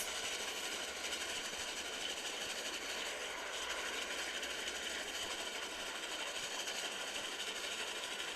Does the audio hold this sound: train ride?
yes